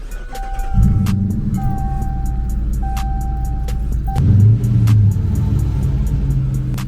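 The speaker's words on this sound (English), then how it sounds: "I'm gonna start the car." A Dodge Charger's engine cranks and catches about one second in, then settles into a steady low idle rumble, with a few soft chime tones early and a brief rise in revs around four seconds.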